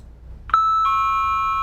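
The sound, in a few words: doorbell ringing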